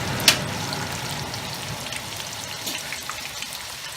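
Prawns sizzle in hot oil in a pan, a steady soft crackle and spitting with one sharp pop near the start, close and fairly quiet with no talk.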